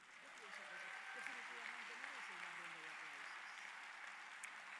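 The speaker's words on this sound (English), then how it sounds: "I think that deserves a round of applause." An audience at a digital services summit in Jamaica applauds in a steady, even wash of clapping that is faint and distant throughout.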